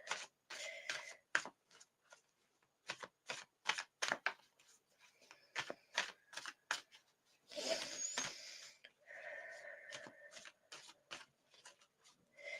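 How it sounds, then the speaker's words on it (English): Tarot cards are shuffled in quick, crisp riffling bursts, a rapid series of soft flicks and slaps close by, with a brief rustling flurry in the middle, quiet overall. "I'll give them a couple of shuffles first."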